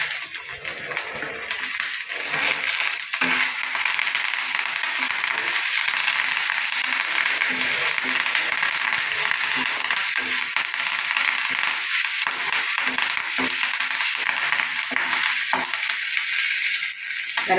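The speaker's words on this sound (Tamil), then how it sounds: "இப்போ கருவேப்பிலை போடுறேன்." Curry leaves crackle and sizzle steadily in hot oil for a carrot chutney, a loud, dense frying hiss that runs unbroken throughout with no talk.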